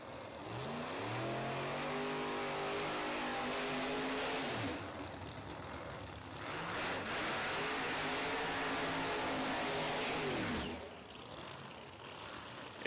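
Two drag race cars, a Chevelle and a Mustang on a PDRA Tour Top Sportsman drag strip, rev their engines in rising, wavering bursts, with roaring pulls, a sharp drop-off after each and a quieter gap between, at a distance.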